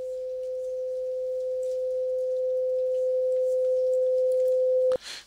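A steady pure tone from a small speaker held in a tube with one closed end, sounding just off the 512 Hz standing wave, holds constant and clear for about five seconds, then cuts off with a brief bump.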